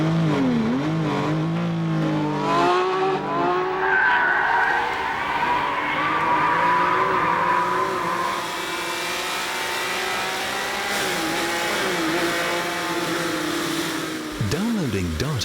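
A fast race car being driven hard, its engine a loud, close, continuous whine whose pitch sweeps up and down as it accelerates and shifts through the gears.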